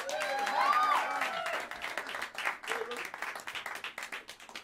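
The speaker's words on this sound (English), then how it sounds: "please, a round of applause for Mr." Jazz club audience applauds musicians during a live quartet set at Smalls, a dense wash of clapping that fades into scattered claps, with a brief musical tone early on.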